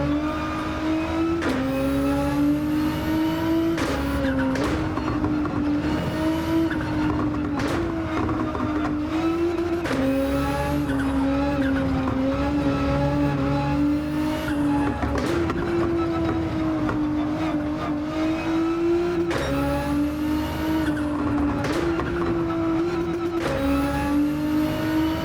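A race car engine drones at a high, steady pitch in the Gran Turismo game, rising and falling slightly through gear changes and corners, loud and continuous throughout with brief tire squeals.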